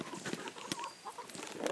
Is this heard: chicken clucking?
yes